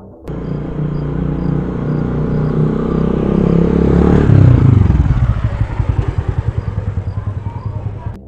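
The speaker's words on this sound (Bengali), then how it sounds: "একটা মোটর বাইক সশব্দে সেখানে এসে থামে" A motorbike rolls in loud and close, its engine roar swelling to a peak before dropping to a throbbing idle, rapid pulses that putter on until it cuts off.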